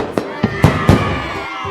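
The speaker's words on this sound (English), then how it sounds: "And at the end, there were fireworks." Fireworks close a festive day with four sharp bangs in quick succession. Each burst rings out and leaves a crackling tail, with a faint crowd murmur underneath.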